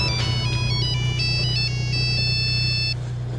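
A telephone ringtone plays a bright, stepping electronic melody for about three seconds over a steady low hum, with no voices.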